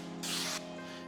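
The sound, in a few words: spraying slip solution on car mirror, True Spray keg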